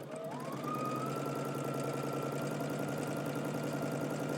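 Sewing machine stitching a pants seam at 5/8 inch, its motor starting up with a rising whine and then running steadily with a fast, even needle rhythm, moderately quiet and close, with no talking.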